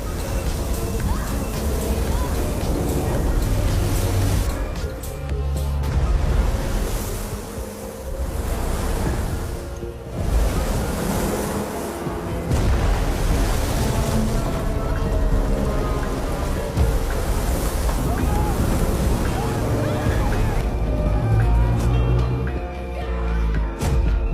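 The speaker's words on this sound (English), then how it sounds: "The waves show the terror of the sea." Rough ocean waves during a storm at sea surge and crash continuously with steady loudness, joined by a rain-like hiss and wind but no clear voices.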